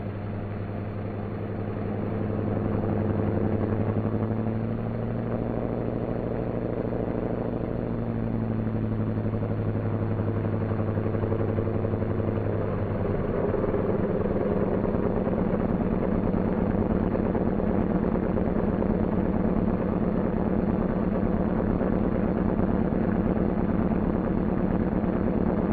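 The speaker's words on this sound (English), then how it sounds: "we've got to start the other engine before we can taxi." A C-47 Skytrain aircraft engine starts and runs as a loud, steady droning rumble that shifts in pitch partway through, then settles into a continuous close-up roar throughout.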